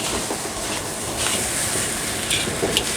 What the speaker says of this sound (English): Now the rice is starting to catch on the bottom, so I need to get moving and stir this around